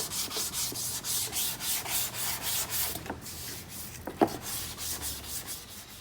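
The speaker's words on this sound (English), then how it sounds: "when I go over it with the 320 on the little DA, I'll just clean that up" A small dual-action sander with 320 grit paper works over a repaired car bumper, giving a rhythmic, repeated rubbing swish in close strokes, with a few brief knocks near the end.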